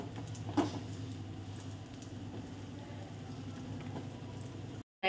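Dry fruit powder frying in ghee for kheer, a soft steady low crackle and patter close by, with one brief knock near the start and a sudden drop to silence just before the end.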